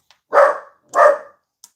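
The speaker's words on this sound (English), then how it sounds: "That neighbor's dog." A neighbor's dog barks twice outdoors at a distance, two full sharp barks about half a second apart, with a brief faint yip at the start and end, no talking.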